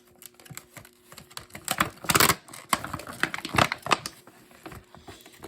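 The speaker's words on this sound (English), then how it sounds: "I can just rip it open like this." Packaging for a Kidde Nighthawk KN-COPP-3 plug-in carbon monoxide alarm being ripped open by hand, a close series of sharp tearing and crinkling bursts with short pauses, loudest midway, no talking.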